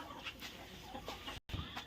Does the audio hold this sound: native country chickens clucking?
yes